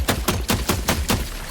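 Gunfire in The Last Caretaker video game, six evenly spaced loud shots fired in steady rhythm, close and clear with no talking.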